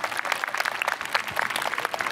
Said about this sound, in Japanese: 改めて大賞受賞されました岡山浦賀連れんげの皆さんに大きな拍手をお願いいたします。